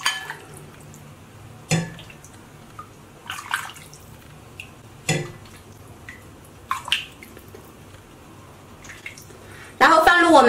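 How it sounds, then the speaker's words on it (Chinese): Hot broth ladled into a deep bowl for Sichuan cold-pot skewers in a kitchen, with scattered clinks, drips and splashes at irregular intervals and a louder watery burst of pouring near the end. "把这个高汤舀到碗里面"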